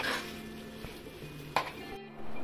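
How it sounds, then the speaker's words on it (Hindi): Moong dal roasting in ghee over a slow flame, a soft steady sizzle with occasional spoon scrapes and a metallic clink against the pan, close and fairly quiet with no talk. "दाल को हमें स्लो फ्लेम पे ही तब तक भुनना है जब तक दाल अच्छे से घी ना छोड़ दे।"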